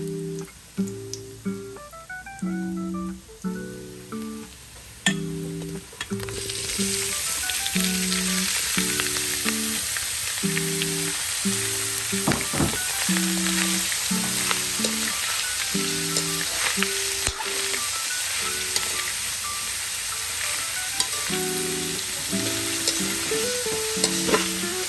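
Boiled pork sizzling and crackling loudly in a hot pan while being stir-fried for menudo, a steady frying hiss broken by rhythmic scraping stirs, alone with no talk.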